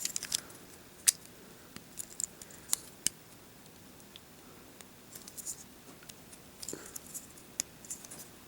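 Quiet scattered clicks and light scrapes of plastic toy axe parts being slid and tabbed onto a Transformers figure, irregular small snaps close by in a still room.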